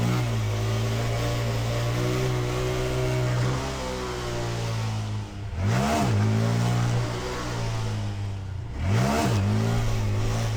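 A Honda Grom motorcycle engine drones steadily during wheelie practice in a lot, then revs sharply twice, rising and falling in pitch, with the note close, loud and continuous.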